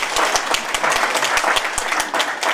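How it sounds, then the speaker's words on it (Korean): Audience applause at a public political Q&A event in Daegu, a dense patter of many hands clapping together, steady and fairly close, with no talk over it. "예, 박수 치세요."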